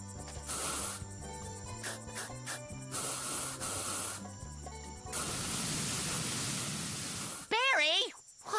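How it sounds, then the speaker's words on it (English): Music plays, then gives way to a steady hiss of liquid spraying for about two seconds, followed by a warbling squeal. "watch where you're spraying"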